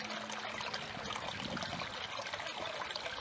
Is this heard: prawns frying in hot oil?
no